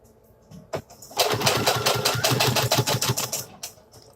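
A sewing machine stitches a Cricut dust cover in a quick, loud, close run of rhythmic needle thumps lasting a few seconds, with a few faint clicks before and after.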